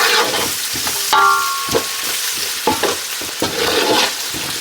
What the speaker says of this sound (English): you're roasting down the garlic